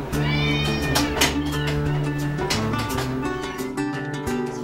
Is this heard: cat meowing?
yes